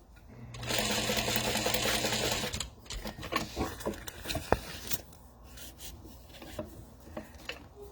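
A sewing machine stitching a tag onto a handmade wallet: a steady, close whirring run of about two seconds, then rustling and handling of the material and a few light taps, fading to quiet.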